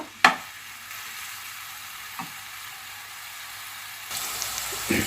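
Garlic and onion cook gently in olive oil in a pan, a low, even frying hiss with one sharp utensil knock at the start and a brighter burst of sizzle near the end.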